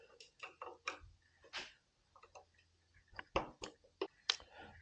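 A 7/16 wrench works the starter ground cable nut on a 1975 Harley-Davidson Shovelhead, giving a run of close, sharp metallic ticks and clicks in irregular bursts with brief pauses.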